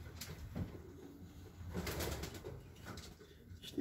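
Pigeons at a large breeding loft coo softly and repeatedly at a distance, with faint wing flaps and ambient rustling through the quiet background.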